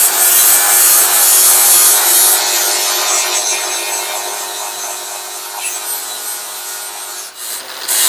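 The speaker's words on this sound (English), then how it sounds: "we're gonna grind this down" Abrasive grinding on the high spot of a race Jeep frame: a steady, close, harsh rasp that runs unbroken and slowly eases off in loudness, with no voices.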